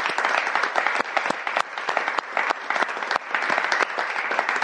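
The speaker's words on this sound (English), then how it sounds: "let's clap it up for him" Live audience applause filling a packed New York podcast taping, steady dense clapping with scattered sharper claps throughout, loud and close, no talking over it.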